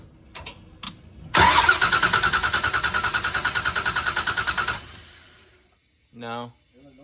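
A Camaro's 572 big-block engine cranks over with a rapid, steady chugging rhythm for about three seconds, then stops without catching; brief voices before and after.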